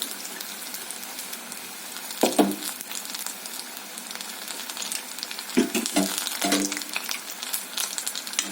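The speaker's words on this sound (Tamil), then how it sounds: "அப்படியே பார்த்து எண்ணெயில் போடும்போது கொஞ்சம் கேர்ஃபுல்லாக போடுங்க." Medu vada (urad dal) batter frying in hot oil, a steady soft sizzle with a few bursts of louder crackling as pieces are dropped in and stirred, no talking.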